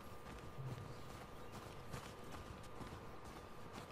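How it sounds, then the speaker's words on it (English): Horses walk along in The Last of Us Part II, their hooves clip-clopping at a steady, quiet pace amid game ambience. "Oh, we're getting the horses."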